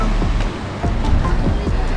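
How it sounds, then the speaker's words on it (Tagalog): Sea waves wash onto a white sand beach at Bolinao, a close, steady roar of surf with gusty wind noise on the microphone. "So, nandito ako ngayon sa dagat. Literal na dagat."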